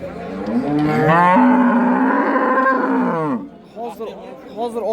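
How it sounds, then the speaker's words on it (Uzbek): An ox at a Samarkand livestock market lets out one long, loud, low moo lasting about three seconds. Voices of people talking nearby follow as it fades. "Ho'kiz."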